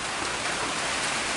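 Steady rain falling at a Wisconsin deer hunting camp, an even, dense hiss of drops drumming on surfaces, close and constant with no voices.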